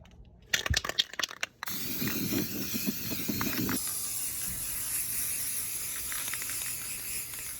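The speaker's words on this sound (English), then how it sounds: "Anything that there's a little rust color to it, we spray with rust reformer" A steady aerosol spray of rust reformer hisses for several seconds, preceded by a few sharp clicks and rattles of the can being shaken, treating rust on a van floor.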